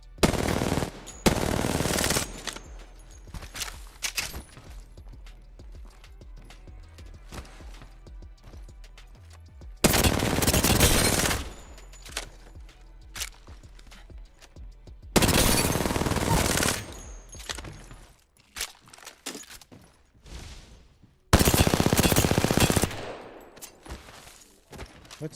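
SMG gunfire in a video game comes as several loud, dense automatic bursts of a few seconds each, separated by quieter stretches of clicks and faint game sounds.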